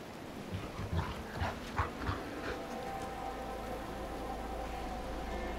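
A wolf dog in the game Diablo 4 gives a few short, faint whimpers early on, then a steady hiss like rain carries on alone.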